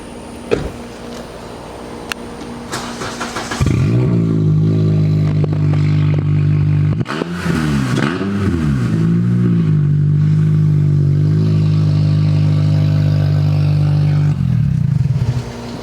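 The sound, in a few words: car engine revving through aftermarket exhaust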